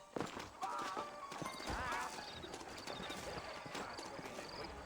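Horse hooves clip-clop at a steady walking pace, with a horse whinnying partway through and faint bird chirps in the background.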